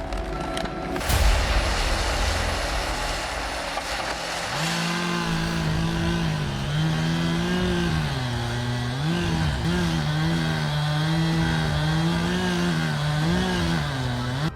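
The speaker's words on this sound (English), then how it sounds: "The roar of the chainsaws echoed like thunder in the forest, shaking the entire space." Big chainsaws cutting into a giant oak tree in a forest during stump removal. After a sharp crack, a loud, sustained engine roar holds steady with rhythmic pitch swells as the saw bites.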